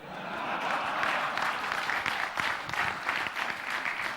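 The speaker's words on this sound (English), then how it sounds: "another big round of applause goes out to Devdutt Patnaik" Steady audience applause fills a lecture hall after a business talk by author Devdutt Patnaik, a dense wash of clapping hands that holds evenly throughout with no voices over it.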